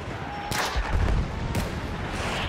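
Video game gunfire: a burst of sharp shots, then a single loud crack a second later over a steady background rumble. The shots are close and fairly loud, with no talk over them.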